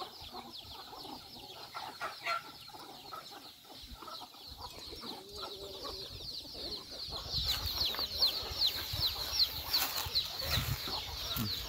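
Chickens, including large birds, cluck and chatter in a pen, a busy overlapping flock sound that grows louder and denser in the second half, with occasional wing flaps.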